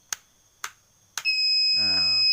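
A homemade beeper for locating a crashed model plane gives three sharp clicks as its button is pressed. A steady, piercing electronic tone then starts and holds, close and loud.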